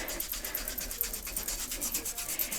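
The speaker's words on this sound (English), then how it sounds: "So I'm done with the coarse side, so now I'm going to use my fine side." Fine side of a foot file rubbed over callused foot skin during a home pedicure, a steady rapid rasping scrape with quick repeated strokes, close and fairly quiet, no talking.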